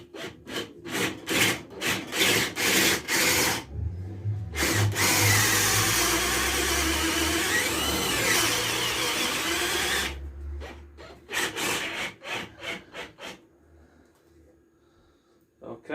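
Rasping strokes of wet wood being rubbed down while making a homemade hobo fishing reel: a run of short rhythmic scrubs, then a long steady loud stretch, then more brief strokes fading out, close to the microphone.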